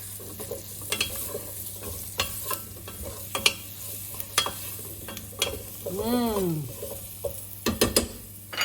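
A spoon stirs and scrapes in an oiled pan on the stove while cooking Thai pumpkin soup. A gentle sizzle sits under repeated sharp knocks and scrapes, with a brief squeaky sweep partway through.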